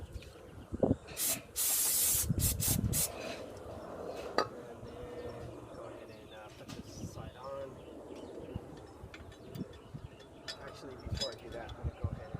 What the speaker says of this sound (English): So gonna go ahead and spray a little more brake cleaner in there.